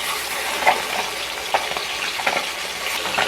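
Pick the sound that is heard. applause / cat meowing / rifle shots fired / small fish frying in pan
small fish frying in pan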